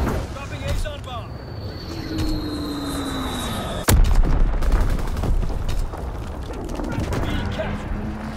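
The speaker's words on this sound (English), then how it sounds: "Dropping Azon bomb." An Azon guided bomb strikes in Call of Duty: WWII, a sharp loud boom landing about midway through and rumbling on amid wartime game noise, scattered gunfire and a plane drone.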